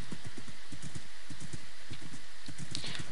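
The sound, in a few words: horses in a survival video game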